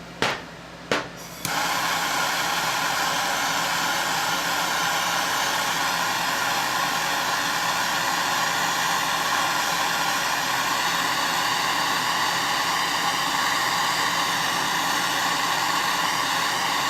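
A MAP gas torch heats a steel ejector part for an H&R BayState 12-gauge single-shot shotgun, a steady close roaring hiss that holds evenly for over fifteen seconds after a couple of brief clicks and bursts as it lights.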